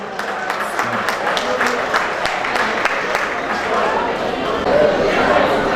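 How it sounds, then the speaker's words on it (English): A crowd applauds Reverend Father Edwin at an Igbo community gathering in Malaga, Spain, with scattered claps mixed into loud chatter and voices that swell slightly toward the end. "a round of applause for him"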